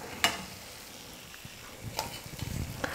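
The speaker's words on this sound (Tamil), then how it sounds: "இதே போல் மீதி இருக்கிற எல்லாமாவே எண்ணெயில் போட்டு நம்ம பொரிச்சு எடுத்துடலாம்." Maida flour snack pieces deep frying in hot oil, a soft, quiet sizzle with a few light clinks of a ladle against the pan, close and without speech.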